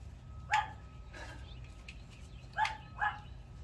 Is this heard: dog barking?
yes